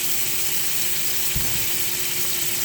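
Scallops sizzle steadily in hot oil in a pan, a dense continuous frying hiss with a faint low hum beneath and no voices.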